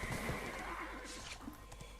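A horse in the online game Black Desert neighs loudly and close, a single whinny over a steady game backdrop with faint hoof clops.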